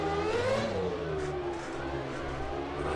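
Mercedes V10 Formula 1 engine in a racing video game at Monaco, revving high with a rising then falling whine as it shifts through gears, steady and fairly quiet.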